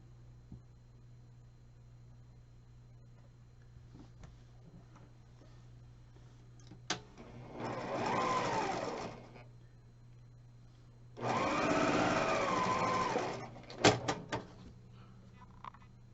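A sewing machine stitches quilt block pieces together for a patriotic-themed quilt, running in two short bursts of about two seconds each, separated by a pause in a quiet room.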